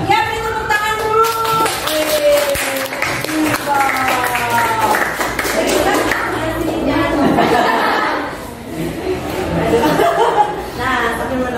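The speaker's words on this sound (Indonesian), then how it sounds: "beri tepuk tangan dulu" Audience clapping in scattered bursts, mixed with laughter and chatter from the crowd, and voices talking over the room.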